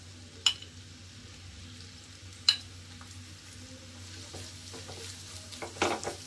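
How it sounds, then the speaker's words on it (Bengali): Chopped onion sizzles gently in hot oil in a pan, with a few sharp clinks of a utensil against the pan and soft stirring scrapes over a low, steady fry. "এখন আমি দিয়ে দিচ্ছি পেঁয়াজের কুচি।"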